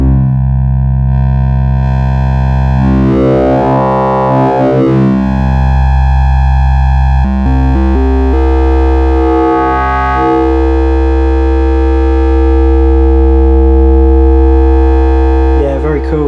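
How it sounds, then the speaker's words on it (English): A Polygogo modular synth module generates its oscillator tone from Lissajous figures, producing a loud, buzzing, distorted drone with shifting harmonics and sweeping, warbling changes in timbre, playing alone without voices. "this Polygogo module is basically, it uses Lysergy figures to create the oscillator sound"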